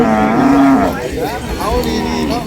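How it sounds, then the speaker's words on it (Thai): Cattle moo loudly and close at an open-air cattle and buffalo market in Sakon Nakhon, Thailand, two long drawn-out lowing calls with a pause between them over crowd noise. "ช่วงบรรยากาศซื้อขายตลาด ซื้อขายวัวควายอยู่ตลาด โคกระบือ"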